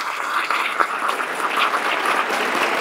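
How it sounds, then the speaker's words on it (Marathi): Sustained applause from an audience honouring the teachers of a gurukul at a Guru Purnima worship event, steady crowd clapping throughout with a few sharper claps standing out, no speech. "तर त्यांच्यासाठी जोरात टाळ्या व्हायला पाहिजे"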